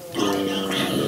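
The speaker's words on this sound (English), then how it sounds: "I hear a zombie." Minecraft zombie groaning in the video game, a single low, nasal grunting moan lasting about a second, close and clear with no talk over it.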